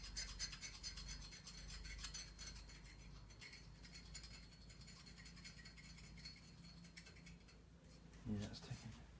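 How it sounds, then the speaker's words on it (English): Flat knife blade scraping old paint off a vintage bicycle frame, a steady, close rasping rub that runs continuously with a brief clatter near the end. "I'm just taking a flat blade on the knife and seeing what we've got."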